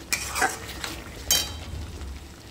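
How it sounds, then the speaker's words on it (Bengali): Paneer curry with cashew paste is stirred in a pan, giving two soft scraping strokes of a spoon over a low, faint simmering sizzle. "চলো খুব ভালো করে কাজু বাটা দিয়ে নেড়ে নিচ্ছি।"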